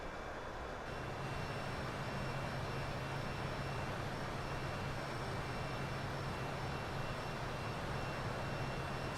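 A Fokker F28 jet in a flight simulator game produces a steady, loud engine roar blended with rushing wind noise and a constant low drone. The sound runs unbroken throughout and grows slightly fuller after the first second.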